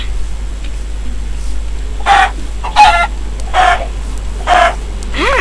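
Chickens in Minecraft cluck in four short, loud bursts spaced about a second apart over a constant low hum, with no talking.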